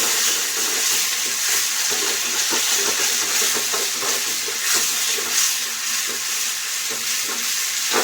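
Tomato paste sizzles as it fries in a pan for a spiced gravy, giving a loud, steady hiss with occasional stirring scrapes and no voices.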